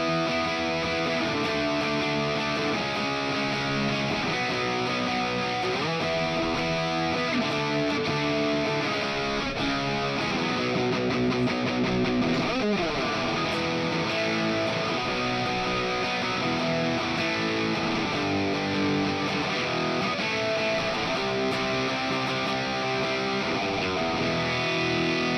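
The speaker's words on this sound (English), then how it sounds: "if I split the coil on that, this sounds like this." Budget electric guitar with its humbucker coil-split, played as a continuous, loud and lightly distorted run of chords and picked notes, steady and unbroken with no voice over it.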